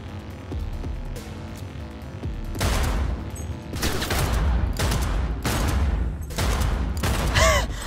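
Repeated bursts of gunfire in Cyberpunk 2077 as shots are aimed at an enemy's head, loud volleys recurring every second or so over a steady game hum, with a brief metallic ring near the end.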